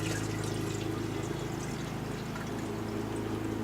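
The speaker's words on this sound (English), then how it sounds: "This is a gallon of water. It's just tap water." A steady stream of tap water pours continuously into a Hankscraft 202-B vaporizer, a soft, even splashing rush with a low hum underneath, no talking.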